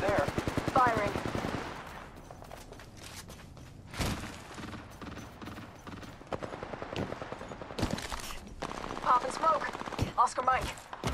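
Automatic machine gun fire in the video game Apex Legends, repeated rapid bursts through most of the span, with some voice under the shooting.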